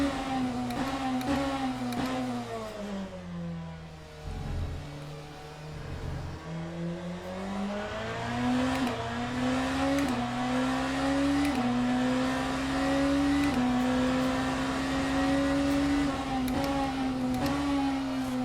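Le Mans Ultimate hypercar engine in the video game, revving steadily with audible downshifts that drop and climb in pitch, loud and continuous with no talk.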